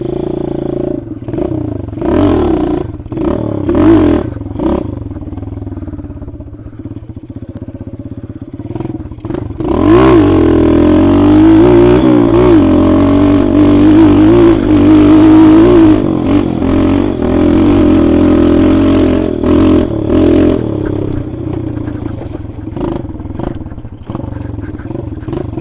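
A dirt bike rides a trail on the way to an old mine site, its engine revving and clattering loud and close throughout, rising in pitch through gear changes and holding a strong steady drone in the middle stretch.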